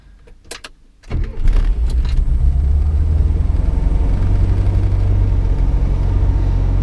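A classic Mini, already warm, cranks briefly with a few clicks and then catches, its small engine settling into a loud, steady, slightly lumpy idle close by.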